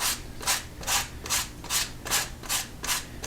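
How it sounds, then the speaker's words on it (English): Rhythmic back-and-forth rubbing of damp sanding on a leather edge, about eight even strokes in one direction at a steady pace, close by. "with damp sanding, all one direction."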